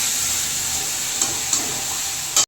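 Marinated meat goes into a hot pan of spices cooked down with sour yogurt, setting off a loud, steady sizzle with a few soft knocks and a sharp clatter at the very end.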